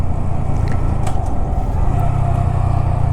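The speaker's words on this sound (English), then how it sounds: "Engine brake." A motorcycle engine braking on the road gives a steady, low, rumbling drone throughout, close and fairly loud, without speech.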